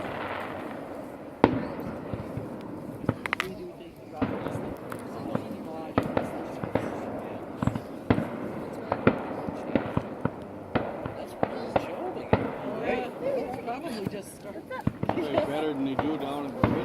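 Fireworks bursting at a night-time display, repeated sharp booms and crackles scattered across the whole stretch, fairly near, with people chatting throughout.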